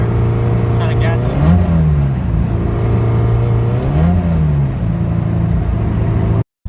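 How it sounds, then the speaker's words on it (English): A Honda H22 car in 5th gear with a slipping clutch, its engine revving loudly and close in two rising-and-falling surges over a steady drone, as if not catching; speech is also present. "it would rev like it's not catching the clutch at all"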